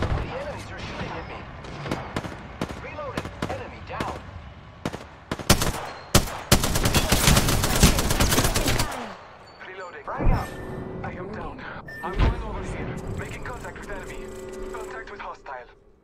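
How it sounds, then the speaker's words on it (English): Rapid bursts of enemy gunfire in an Apex Legends battle, a dense automatic volley peaking in the middle with scattered single shots before and after, loud and close, with some talk underneath. "The enemies are shooting at me."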